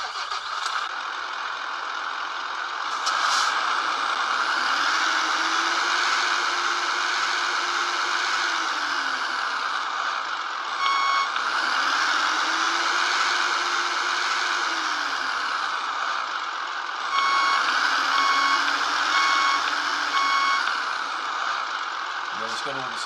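A Beier MSM-1 micro sound module playing its third truck engine sound: a steady synthetic diesel idle with three rising rev-ups and falls, each held for a few seconds, loud and close with no talk.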